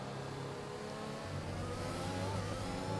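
An F1 car in the F1 21 video game at the USA Grand Prix rounds the last corner, its engine a loud, continuous whine that climbs steadily in pitch as it accelerates out of the turn.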